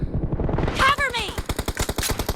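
Rapid bursts of gunfire from the mobile battle-royale game PUBG Mobile, a dense run of sharp repeated shots with a brief swooping whoosh partway through, loud and close.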